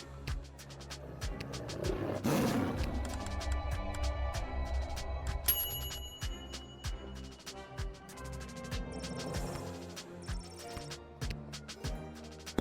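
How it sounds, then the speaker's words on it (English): A dragon roars in a comedy video game, a deep rumbling growl that swells early and then fades under sparse clicks and game sound effects. "Peaches roars happily."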